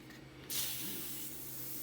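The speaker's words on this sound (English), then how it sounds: "Now I spray it again with WD-40." WD-40 aerosol sprayed onto a metal welding table: a single close, loud hiss bursts on about halfway through and holds steady to the end, with a faint hum beneath.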